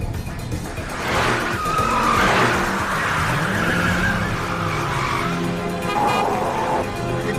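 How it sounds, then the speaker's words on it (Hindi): A car is driven fast on an Indian road, a loud steady engine roar with tire squeal and skidding swells throughout. "गाड़ी धीरे चलाइए सर, प्लीज गाड़ी धीरे चलाइए।"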